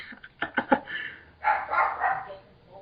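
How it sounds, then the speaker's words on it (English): A dog barks in a quick run of four or five sharp yaps, then lets out a longer, lower bark-like whine, fairly close and alone with no talk over it. "Barking in the podcast."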